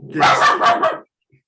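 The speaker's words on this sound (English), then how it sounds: "Sorry, my dog." A pet dog gives a quick burst of several loud, close barks lasting about a second indoors, then falls quiet.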